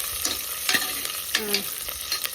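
Onion, curry leaves, mustard seeds and crushed garlic fry in hot oil, a steady close sizzle broken by several scraping stirs of a spoon against the pan.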